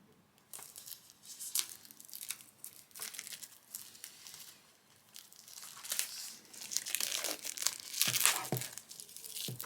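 Plastic wrap on an E.T. 4K UHD limited big sleeve edition disc package being slit and peeled with a small cutting tool, close crinkling and tearing that builds louder toward the end, no talk.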